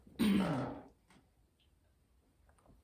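A single rough cough or throat-clearing, close and fairly loud, followed by near silence with a few faint ticks.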